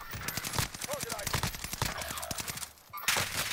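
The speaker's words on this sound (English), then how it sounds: "They fucking shot your ass up." Video game firefight with dense bursts of gunfire, rapid overlapping shots fairly close and loud, with players talking over the shooting and a brief lull before it picks up again.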